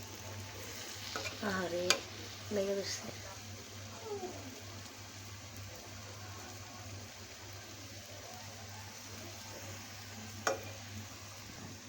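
Palm and rice flour fritters fry in oil in a wok, giving a steady low sizzle with occasional clinks and stirring. A voice speaks briefly over it.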